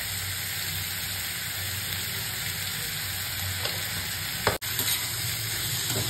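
Chicken liver sizzling steadily in a hot pan on a high flame, a constant close frying hiss with occasional scrapes of stirring and one sharp clack.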